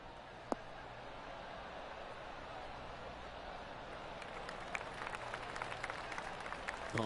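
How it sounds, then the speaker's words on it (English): Scattered polite applause rises from a golf gallery after a pitching wedge shot, a brief sharp clap early on, then soft, thin clapping building gently near the end over steady outdoor ambience. "Oh, golf clap."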